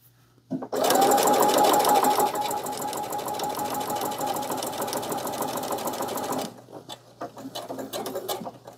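Sewing machine stitching a fabric tea coaster, its motor running in a steady, loud, rapid whir with fine clicking for about six seconds, then stopping, followed by faint handling noises.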